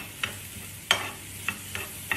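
Eggplant and onion cook in a pan for a quick eggplant pizza, giving a low steady sizzle broken by five sharp utensil scrapes and knocks, one louder than the rest. No one speaks.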